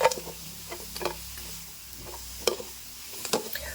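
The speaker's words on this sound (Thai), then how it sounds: "เราจะคั่วไปเรื่อยๆ นะครับ ให้ปูเนื้อของเราหอมไปเลยครับ" Raw mud crab stir-fried in a pan with no prior boiling or steaming, a steady sizzle with scattered clinks and scrapes of the utensil against the pan.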